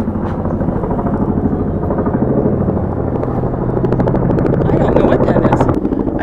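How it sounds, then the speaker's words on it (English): A big, low-flying helicopter passing over a garden, a loud continuous rotor thump and engine roar filling the whole stretch, steady and close overhead. "some sort of helicopters flying around"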